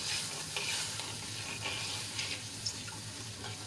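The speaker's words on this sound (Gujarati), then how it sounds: "આ વઘારને આપણે એક ઉભરો આવે ત્યાં સુધી ઉકાળી લઈશું" A steady bubbling sizzle from a sugar tempering boiling in a pan until it froths, for khaman, with faint clinks and stirring noises over the constant hiss.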